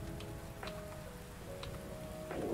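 Steady rain falls during a storm in a video game, a soft continuous patter with a few faint tonal game sounds drifting over it and no talk.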